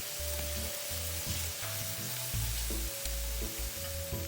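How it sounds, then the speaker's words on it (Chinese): Chili paste stir-fried with garlic and shallots in hot oil makes a loud, continuous sizzle, with stirring scrapes throughout and no talking. "一直爆至葱蒜末溢出香气后，再加入40克辣椒糊。"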